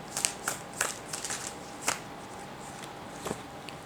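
Tarot cards are shuffled and drawn in a quiet room: a run of soft, papery flicks and slides, some brief and some drawn out, with a faint steady hum underneath and no talking.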